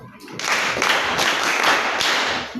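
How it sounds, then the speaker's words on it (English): Steady applause from a group, dense and continuous clapping that swells and holds for a couple of seconds. "Please clap."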